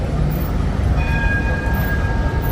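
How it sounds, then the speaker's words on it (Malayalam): A Melbourne tram rumbles closer at a stop, a low steady roar with metallic rail squeals ringing out midway, fairly loud and near. "ഈ ട്രാമാണ് നമ്മൾ പ്രതീക്ഷിക്കുന്നു"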